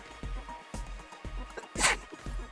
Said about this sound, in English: Usually you don't say bless me after you sneeze.